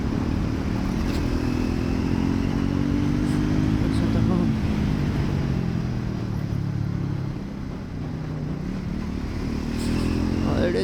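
A man imitates a motorbike engine with his mouth during a midnight ride through Bangalore, giving a continuous buzzing, rising and falling drone as if revving, over steady road and wind rumble.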